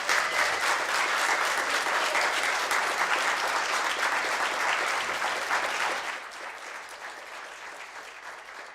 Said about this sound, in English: Can we get a big round of applause for this great team?